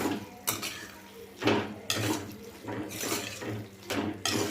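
A spoon stirs bottle gourd curry in a metal pot, making a run of distinct scraping clatters and knocks at irregular intervals, close up and with no talking.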